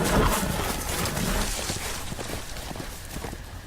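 Hooves clip-clop along at a walking pace in the video game Game of Thrones, a loose rhythm of hoofbeats over a busy background of game ambience.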